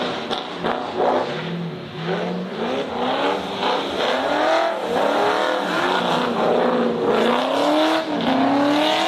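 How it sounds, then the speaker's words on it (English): Drift cars at a pro-am drifting event run into a handbrake initiation, engines revving loud and close with rising, wavering pitch and some tire squeal over a continuous roar. "Big handbrake pull by Paraboom"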